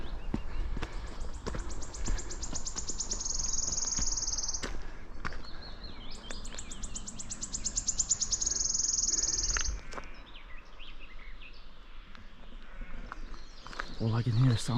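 Sheep bleat in open Snowdonia fields near Watkins Path, with birdsong and a babbling river in the background. The sounds are spread out and mostly distant, and someone talks quietly at times.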